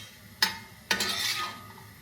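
Raisins stirred and fried in a cooking pot while making sweet jaggery rice: two quick scraping stir strokes, close and fairly loud, followed by a soft sizzle.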